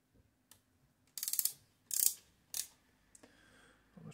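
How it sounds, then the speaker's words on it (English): Ratcheting wrench clicking in a few short bursts while loosening screws on the case of an Imperial Good Companion Model T typewriter, with quiet pauses between the close, sharp metallic ticks. "I'm gonna get my trusty wrench again."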